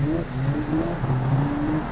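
A Daihatsu minivan lapping a track in the BeamNG driving game, its engine a steady, continuous droning whir that rises and falls slightly in pitch as it runs, with no voices over it.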